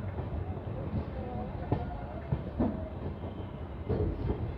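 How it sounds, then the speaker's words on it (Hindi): Lalkuan–Howrah train running on the track toward the Pilibhit line, a muffled continuous rumble with occasional wheel clacks, a voice faintly present underneath. "ट्रेन जो है यहाँ से मुड़ जाएगी पीलीभीत वाले ट्रैक पर"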